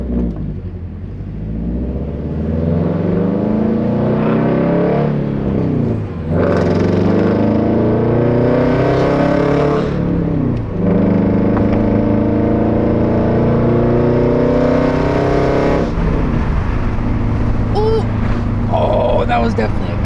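A Subaru BRZ running an E85 flex fuel tune pulls hard in fifth gear, its engine note rising in long sweeps and easing off between pulls, heard from inside the car with a steady rumble throughout.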